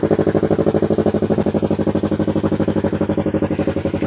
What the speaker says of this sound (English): So I'll let you kind of hear the exhaust here.